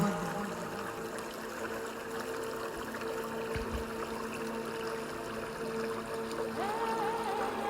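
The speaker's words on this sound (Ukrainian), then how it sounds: "і повністю віддавайте звуку води." Steady flowing water with a soft trickling texture runs continuously at an even level, an ambient water bed with no voices.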